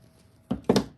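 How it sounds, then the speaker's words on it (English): Two short snips of scissors trimming the ends of craft pieces for a Valentine gnome plaque, close and crisp with a brief pause between cuts, in an otherwise quiet room. "And I just trim these up a little bit on the ends."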